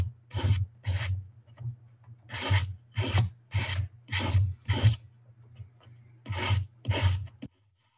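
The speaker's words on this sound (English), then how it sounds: "This is a 400 grit. So here you can go back and forth on like on a file." Fine 400 grit sandpaper rasps back and forth over small brass and copper dress hooks, about ten short file-like strokes in bursts with brief pauses, close and clear over a low steady hum.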